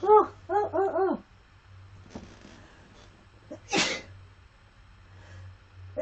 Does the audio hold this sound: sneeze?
yes